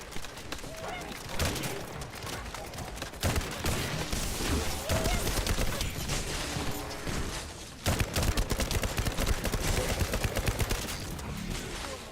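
Gunfire in the video game 7 Days to Die, dense rapid bursts of shots and automatic fire going almost nonstop, loud and chaotic, with a voice speaking over it.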